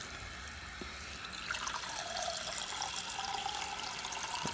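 Water pours steadily into the radiator of a 2017–2018 Honda CRF450R dirt bike, a continuous close trickling and gurgling that grows slightly louder as it fills, with no talk.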